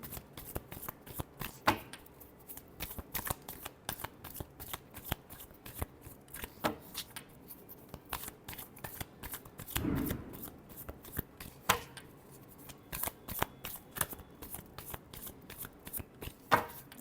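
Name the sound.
shuffling tarot cards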